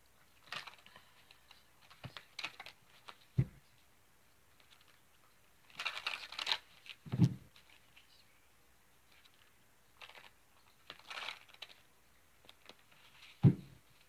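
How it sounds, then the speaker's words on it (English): A deck of tarot cards is shuffled by hand, heard as faint, intermittent bursts of papery rustling and soft clicks, with a few low thumps spaced across a quiet background. "I'm going to shuffle up the cards here."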